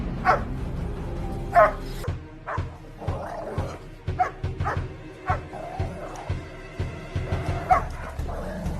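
A dog barks and yips in a run of sharp, close barks with a few whimpering notes between them, irregular and insistent, over a low steady background.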